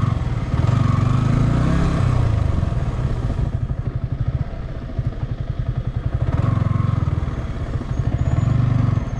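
A motorcycle, either a KTM RC 390 or Yamaha R15 V3, rides in first gear, its engine a steady low rumble with a rapid pulsing mid-clip, loud and close with wind noise.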